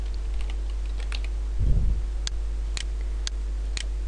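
Keys on a computer keyboard are tapped in sparse, close clicks, with a brief low thump partway through and steady background hum.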